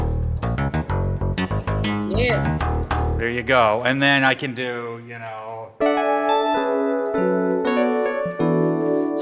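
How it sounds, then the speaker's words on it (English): Bright, bell-like electric piano and synth tones from a Yamaha DX7 synthesizer ring out in chords and runs, with a person speaking briefly over the playing. "the Yamaha DX7 synthesizer. And this is the sound of the 80s."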